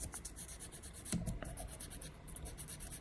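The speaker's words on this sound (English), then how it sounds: "The more we scrape, the more it cleans." A cold soldering iron tip scraped clean, giving a faint, continuous rasping rub close by with one brief sharper scratch partway through, no voices.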